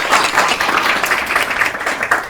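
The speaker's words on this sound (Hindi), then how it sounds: "जोरदार तालियों से स्वागत करिए" Audience in a coaching-class hall clapping to welcome a student who earned a top rank in the Uttar Pradesh police sub-inspector exam; brisk, continuous close applause throughout the short stretch.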